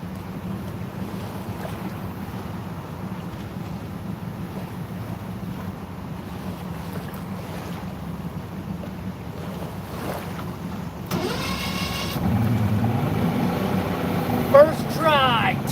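A two-stroke outboard boat motor on Henderson Lake starts up and runs, a buzzing engine note rising partway through and continuing steadily under wind noise and excited voices.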